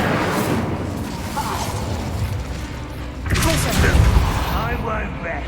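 An Incendio fire spell cast in a Harry Potter video game, a rushing fiery burst that swells loudly after a steady rumbling background, with crackling tail.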